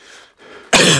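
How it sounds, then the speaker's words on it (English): A person coughs close to the microphone, two soft throaty hacks followed by one loud, harsh burst, with no talking. "I don't know where that cough came from."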